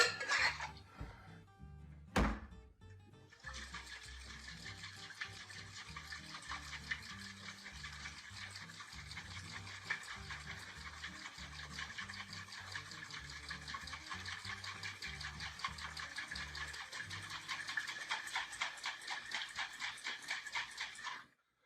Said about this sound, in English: this is going to get a good shake. 30 seconds. Dry shake, no ice.